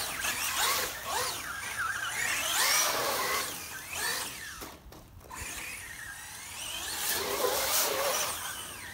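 An Axial SCX10 II RC crawler drives through a water crossing, its small electric motor giving a steady, close whine with gritty, splashy texture that dips briefly midway and rises again.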